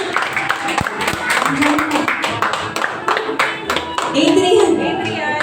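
A church congregation at a Sunday service claps for an elementary school graduate, steady scattered hand claps spread through the room at moderate loudness, with voices murmuring beneath and a louder voice rising near the end.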